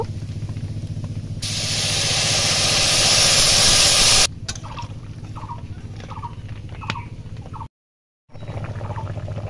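Spiced curry broth with cumin paste and broken potato pieces bubbles steadily in a pan, a continuous close hiss and soft patter of boiling, louder for a stretch before settling, with one brief silent gap.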